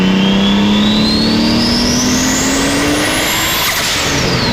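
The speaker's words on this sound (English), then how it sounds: "So right here we also have a tile blow-off valve." Engine of a Skyline-swapped Nissan S13 with a Tial blow-off valve, a loud steady roar with rising pitch as it revs up, then a brief release near the end, heard close with no talking.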